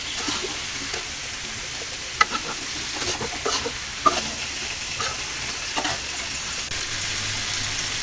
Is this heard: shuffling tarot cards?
no